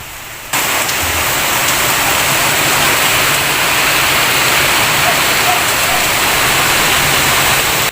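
Steady, dense rain pours down in a continuous loud hiss that begins abruptly and holds without pause.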